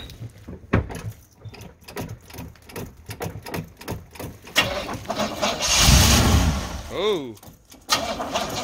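A 1983 Chevy Camaro Z28 with a carb-swapped Crossfire engine, fed starter fluid, cranks in a rough rhythmic chug under talk, then catches with a loud burst and settles into a running roar.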